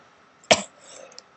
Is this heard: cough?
yes